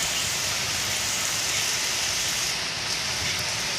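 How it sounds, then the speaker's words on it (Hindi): Heavy rain pouring down outdoors, a dense, loud, continuous hiss of falling water with no pauses. "देखिए कितनी खतरनाक बारिश हो रही है।"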